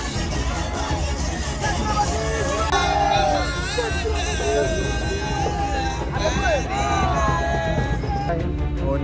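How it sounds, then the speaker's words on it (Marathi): Large crowd of Shivaji devotees gathered at Nagarkhana on Raigad fort during the Shivrajyabhishek celebration, a dense babble of many voices with shouts and whoops rising over a constant loud hubbub. "बघू शकता किती मोठ्या प्रमाणात या ठिकाणी शिवभक्तांची गर्दी जमलेली आहे"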